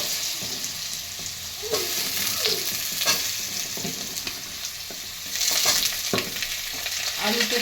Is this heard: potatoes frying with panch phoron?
yes